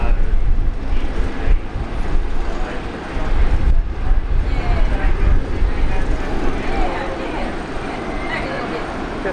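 A Jetstar airliner rolls along a runway at Brisbane Airport, its low, steady engine rumble running the full length beneath intermittent voices.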